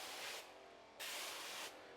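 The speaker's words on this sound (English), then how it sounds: "I'm gonna spray the door down," Slip solution is sprayed onto a car door in two short hissing bursts, close and crisp, separated by a brief pause.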